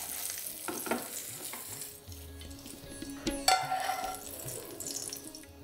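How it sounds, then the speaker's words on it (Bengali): Spices crackling in hot oil for a raita tadka while being stirred, with a soft sizzle, scattered pops and a sharp metallic clink partway through, close and moderately quiet. "যতক্ষণ এই সব কিছু খুব ভালোভাবে ক্র্যাকেল হচ্ছে ততক্ষণ এটাকে এইভাবেই মেশাতে থাকুন।"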